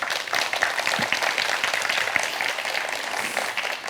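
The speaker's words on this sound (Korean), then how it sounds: "여러분 박수로 맞아주십시오." An audience applauds steadily to welcome a speaker onto the stage at a Korean talk event in Gwangju, with dense, sustained clapping.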